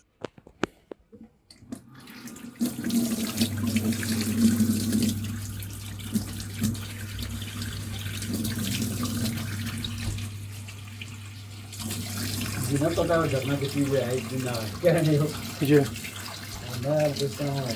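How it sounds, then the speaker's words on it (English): Hot water gushes steadily from a tap into a sink for a long stretch after an Ideal boiler repair, with a low hum underneath and someone speaking near the end. "Water's coming out hot."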